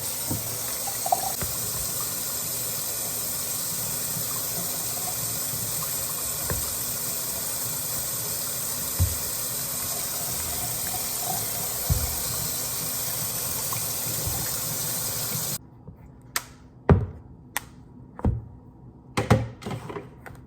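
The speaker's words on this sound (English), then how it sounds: "Give it one more rinse just to make sure it's like not cooking at all." Cooked macaroni gets rinsed under a kitchen faucet: a steady, close gush of running water for about fifteen seconds, then the tap shuts off and a few scattered clinks and knocks follow.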